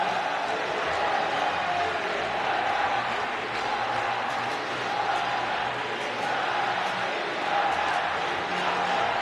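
Roller hockey crowd at the World Skate 2021 men's semifinal between the Czech Republic and Italy, cheering for Italy in a steady, dense roar of massed voices that holds loud and unbroken throughout.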